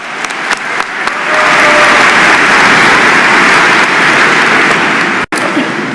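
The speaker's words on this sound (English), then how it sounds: "Let's give a big round of applause." A large audience at a university spring commencement bursts into applause, a dense, steady wash of clapping that swells after a few scattered early claps and carries on for several seconds before cutting off abruptly near the end.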